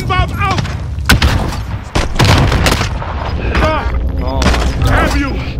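A stun grenade goes off in the video game Call of Duty Warzone, sharp loud bangs amid continuous gunfire and game noise, with people talking over it.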